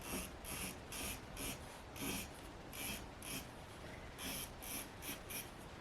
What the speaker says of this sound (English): I'm just going to continue tracing this out